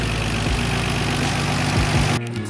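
A Nissan Skyline GT-R R33 engine idles with a steady, even hum for a couple of seconds, then quiets abruptly near the end.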